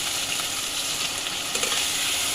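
Spice paste hits potatoes frying in a pan, giving a steady close sizzle with a brief louder spatter partway through.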